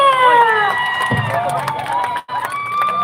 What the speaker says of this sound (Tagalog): Isang masigabong palakpakan na may kasamang sigawan para kay Yusek Chito Valmosina!